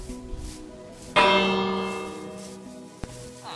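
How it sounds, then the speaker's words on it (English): The village bell in the Minecraft video game rings once, loud and close, with a bright metallic strike that decays slowly over two seconds. A faint click sounds shortly afterwards. "And there's the bell I talked about."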